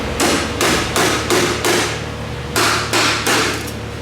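A hammer pounds on a stuck part of an old tractor near the battery box. About seven loud, close metallic blows land at a steady, deliberate pace with no talking.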